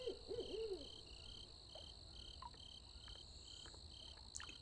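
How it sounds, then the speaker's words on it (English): An owl hoots a short wavering call at the start over a steady night chorus of crickets and insects, in the Real VR Fishing game's East Coast night setting, faint and distant. "you can hear an owl hooting in the background"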